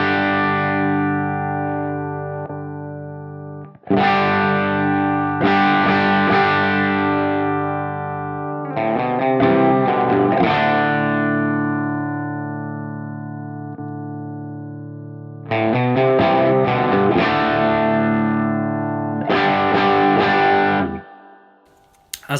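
Electric guitar played through an Origin RevivalDRIVE overdrive on its valve rectifier side rings out in loud, sustained overdriven chords and notes. Several long, separate phrases each decay into a smooth tail, with no talking.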